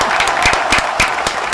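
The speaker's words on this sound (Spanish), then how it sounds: "Fuerte ese aplauso." A live radio morning show's studio audience claps in a brief, dense burst of applause, loud and near, with a few sharper individual claps standing out.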